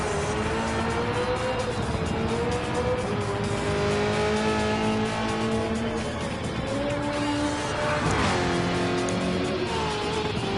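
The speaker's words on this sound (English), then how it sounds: "He's that excited, he wants to drift his way around track" A Supercars race car drifting around Dragon Trail in a racing game, engine droning steadily with rising and falling pitch while tires squeal continuously through the slide, a constant loud, close mix with no speech.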